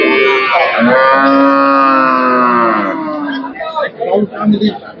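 A dairy cow at a busy cattle market gives one loud, close, drawn-out moo lasting about three seconds, followed by scattered shorter grunts and lowing sounds.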